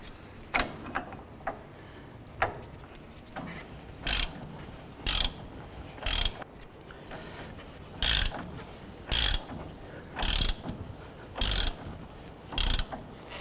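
A press tool works a lower ball joint into the front axle of a 2007–2017 Jeep Wrangler, giving a series of about a dozen sharp metallic ratcheting clicks at uneven intervals over quiet background noise.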